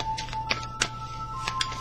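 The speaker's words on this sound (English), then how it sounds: "let me just go ahead and shuffle up real quick" Tarot cards are shuffled by hand in a quiet room, giving a few soft, irregular riffling snaps and slides close to the microphone over a faint steady hum.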